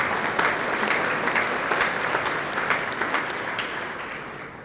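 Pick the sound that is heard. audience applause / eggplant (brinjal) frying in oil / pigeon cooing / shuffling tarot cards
audience applause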